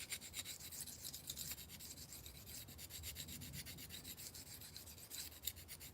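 Heel of a knife blade is rubbed against a sharpening stone, a faint, steady rasping scrape repeating in quick strokes throughout with no speech.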